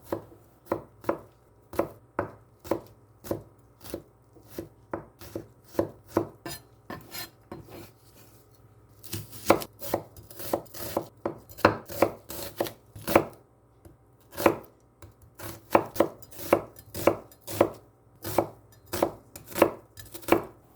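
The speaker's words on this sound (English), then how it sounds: "Chop garlic and onion." Quick, steady knife chops hit a cutting board as garlic and onion are chopped, in bursts with short pauses between runs, close and crisp with no talking.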